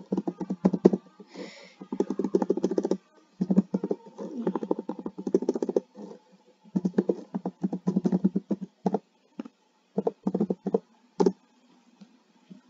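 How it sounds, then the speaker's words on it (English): Fast typing on a computer keyboard comes through as dense runs of close clicking keystrokes, broken by short pauses, with no talking over it. "I'm gonna have to type quickly"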